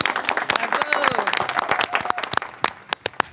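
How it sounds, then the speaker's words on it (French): An audience at the Miss RDCongo pageant breaks into dense applause that thins into scattered individual claps toward the end, with voices talking over it. "On applaudit pour Vanny."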